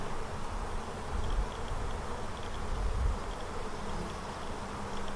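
Honeybees in an open hive during a frame-by-frame search for the queen make a dense, steady buzzing drone that fills the scene, close and continuous, with a few louder low thumps of handling.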